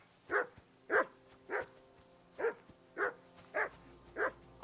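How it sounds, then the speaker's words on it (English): A dog in the medieval role-playing game Kingdom Come: Deliverance 2 barks seven times at a steady, evenly spaced rhythm, moderately distant and alone without talk. "I assume you can hear that damn dog of yours barking."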